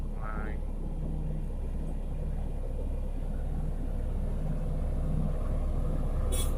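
A Komatsu 405 motor grader works a road being hardened, giving a steady, continuous low engine rumble that holds throughout with no pauses.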